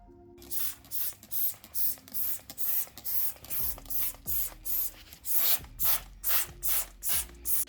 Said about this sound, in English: So I'm gonna give this whole area a really big spray down